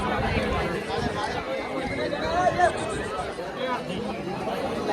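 Many people talk at once in a crowd gathered for a bull race, making a steady, thick hubbub of overlapping voices outdoors, with a brief louder swell partway through.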